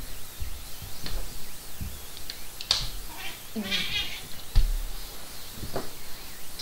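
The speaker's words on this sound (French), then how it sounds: "Ah, mon chat parle aux oiseaux." A cat makes a few short, chattering meows and trills at birds, scattered over several seconds at moderate distance, with light background noise.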